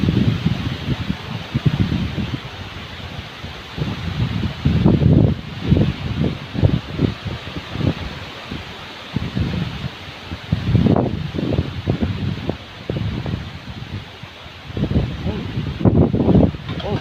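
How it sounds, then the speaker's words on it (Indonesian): Strong wind gusts through trees outdoors before rain, coming in loud rushing surges that rise and fade every few seconds, with buffeting noise on the microphone. "Gokil anginnya coy. Kayaknya mau hujan deras."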